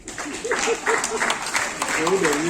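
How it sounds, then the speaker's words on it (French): An audience applauds in a steady patter of clapping while voices carry on over it. "s'il y a quelques femmes mariées dans la salle, on va applaudir pour vous-même"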